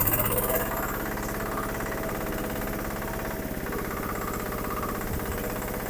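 Japanese farm vehicle running in four-wheel drive without the differential lock: a steady, rumbling mid-pitched engine drone with a slight knocking pulse, loud and close, holding even after a brief stronger burst at the start.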